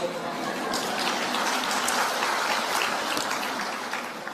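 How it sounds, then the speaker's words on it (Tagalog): An indoor audience at a church sermon claps in a dense, steady burst of applause that holds at an even level for several seconds and stands on its own, with no one speaking. "Dahil sa palakpak nyo"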